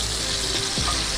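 Shrimp frying in a pan with small clams, a steady close sizzle filling the moment without any voices.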